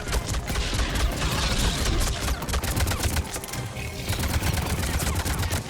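Combat gunfire in Mass Effect Legendary Edition: rapid, dense bursts of shots crackle continuously for several seconds, loud and close, with sharp repeated reports and no speech.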